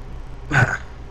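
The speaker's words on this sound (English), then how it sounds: "burp" A single short burp from a man, close and fairly loud, lasting about a quarter second between quieter stretches.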